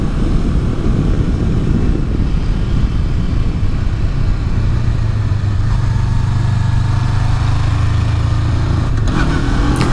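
A 2018 Honda CB500X motorcycle is ridden along winding mountain roads, its engine droning steadily close by with a lower, heavier note that settles in during the second half, consistent with shifting through the gears, and no talking.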